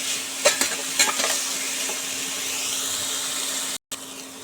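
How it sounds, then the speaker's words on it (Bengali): Potatoes fry with tempering spices in a pan, a steady close sizzle with a few clattering stirs near the start. The sizzle drops out briefly just before the end. No voices. "আলুটা দিয়ে একটু ভেজে নেব আলুটা ফোড়নের সাথে"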